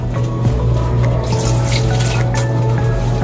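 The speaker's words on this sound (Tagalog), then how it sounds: "Lagyan natin ng konting tubig mga idol." Water runs steadily from a tap into a pot of fish stew being cooked as paksiw, a loud, continuous close-up splashing with no pauses.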